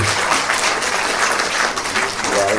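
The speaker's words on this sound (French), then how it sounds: "on peut à nouveau applaudir notre cher Edgar Morin" A forum audience in Nîmes gives a dense, continuous burst of applause, many hands clapping together at an even level with no voices standing out.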